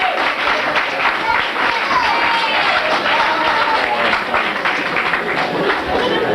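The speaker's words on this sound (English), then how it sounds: "Let's give them a warm round of applause" Audience at a 1986 Hillel Foundation concert at a Florida university applauding the musicians, dense sustained clapping from a crowd filling the whole stretch evenly.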